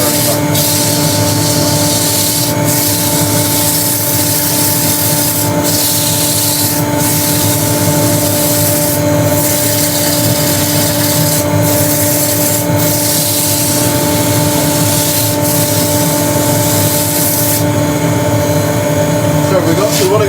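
Rotary sander working over turned wood on a lathe, a steady dense rubbing hiss with a constant motor hum running unbroken throughout, with faint periodic scuffs.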